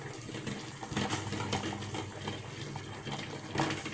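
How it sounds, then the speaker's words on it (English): Bubbling and rattling of four eggs boiling in a pot of water, a continuous churning burble with occasional knocks, close by and without talk. "I hope you all can hear the sound of the egg boiling in the water."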